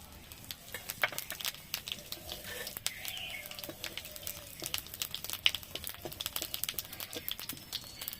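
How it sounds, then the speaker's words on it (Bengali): Dried red chillies and whole cumin seeds sizzle in hot oil for a Bengali boal fish curry, a soft steady crackle with scattered sharp pops and occasional stirring scrapes, close and fairly quiet. "ফোড়নে দিচ্ছি শুকনো লঙ্কা আর গোটা জিরে।"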